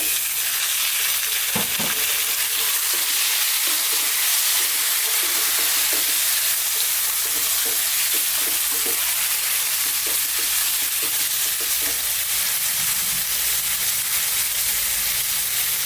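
Beef fries with curry leaves in a pan, hissing in a constant loud sizzle close by, with light scraping and tapping of a spoon stirring through it.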